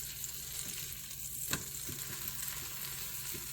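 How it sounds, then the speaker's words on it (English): Kerrygold butter melting in a pan, a soft steady sizzle and crackle with a few faint pops and one sharp tap, close and quiet, no voices. "Let's melt some butter."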